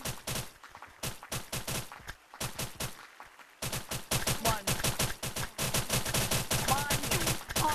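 Rapid bursts of gunfire from the Gorilla Tag video game crackle almost nonstop, sharp repeated shots in quick rhythmic strings with a brief lull before the firing grows denser and louder, while players talk in the background.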